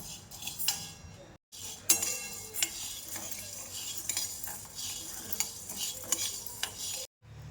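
Sabudana dry roasting in a pan for fasting chakli, with a steady scraping stir and light clinks of a spatula against the metal, close and fairly quiet, with two brief gaps of silence.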